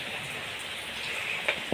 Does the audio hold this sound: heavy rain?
yes